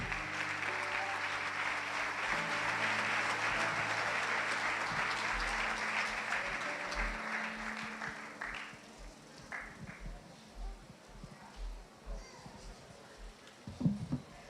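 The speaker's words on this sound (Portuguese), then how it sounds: "Dê um aplauso" A church congregation claps loudly in a dense wave for several seconds during an offering service, then the applause thins and fades as deep, regular thumps of music and scattered room sounds take over.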